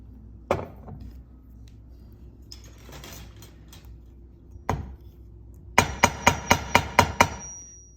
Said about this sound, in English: Let me quickly hammer it.